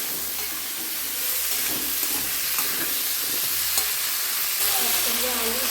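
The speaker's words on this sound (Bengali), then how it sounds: "একসঙ্গে আলু, গাজর, বিনসটাকে খুব সুন্দর করে আমি কষিয়ে নিই" Potato, carrot and beans sautéed with turmeric and salt for a mixed winter-vegetable khichdi, producing a dense, steady sizzle and hiss with soft stirring scrapes, close and continuous with no voice.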